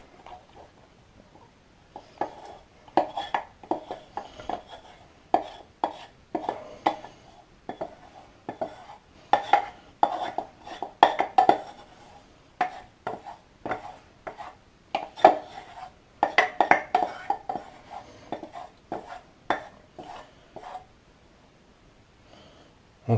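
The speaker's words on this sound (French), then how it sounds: "Donc maintenant le chocolat je l'incorpore au jaune d'œuf." Melted chocolate being stirred into egg yolks in a bowl for a light chocolate mousse, with irregular clinks and scrapes of a utensil against the bowl, close and moderately loud.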